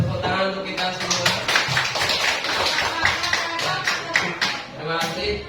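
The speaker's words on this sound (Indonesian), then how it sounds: "Tepuk tangan untuk kita semua." Students in a classroom applaud together, a dense, continuous patter of many hands clapping with voices mixed in.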